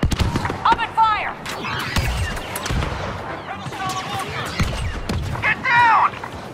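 Blaster fire in the Star Wars Battlefront II battle on PS4, a rapid scattering of sharp energy shots and impacts with whining laser tones, mixed with battlefield rumble and voices calling out, loud and close.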